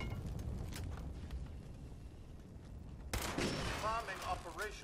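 An enemy bursts apart in the video game Fallout 76: a sudden loud blast of noisy crackling and debris arrives partway through, after a stretch of lower game ambience and gunfire-like thumps.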